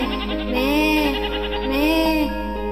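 A goat's bleat in a children's Urdu song, heard as two drawn-out wavering tonal calls over steady musical backing, sung or voiced rather than a real animal.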